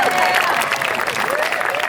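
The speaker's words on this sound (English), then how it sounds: "Give them some love. Come on, clap." Loud, close audience clapping for performers at a music festival playstage workshop, dense and continuous, with some cheering or voices mixed into the crowd.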